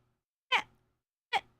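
A young kitten gives two short, thin meows about a second apart, close and fairly quiet against near silence.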